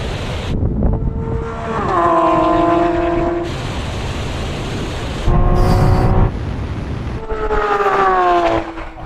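A Lamborghini Aventador Ultimae and SVJ accelerate hard in Corsa mode with a manual gearbox from a 50 mph third-gear roll-on. The engines roar loud and rising, with brief gaps at the gear shifts.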